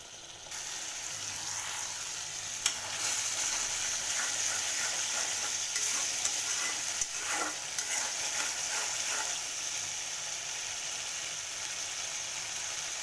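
Mustard hilsa masala sautéing in a pan, a steady close sizzle with a few scraping stirs, continuous for the whole stretch with no talking.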